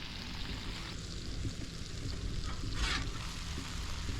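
Food for a southwestern breakfast skillet sautés in a skillet, giving a faint, even sizzle that holds steady throughout. A slightly brighter hiss swells near the middle and there is no speech.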